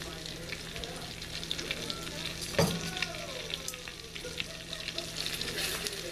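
Dehydrated onions fry in a skillet with butter and olive oil for organic tipsy chicken, a steady close sizzle broken by a sharp utensil knock partway through, with no talking.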